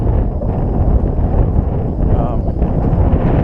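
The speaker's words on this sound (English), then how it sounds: "Wind's blowing pretty good up here as we ascend our first mountain of the day" Strong wind buffeting the microphone high on a mountain in Ireland, a loud continuous rumbling roar with gusty swells and no clear break.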